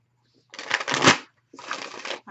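Tarot cards being shuffled in two close, crisp riffling bursts separated by a brief pause, with no talking.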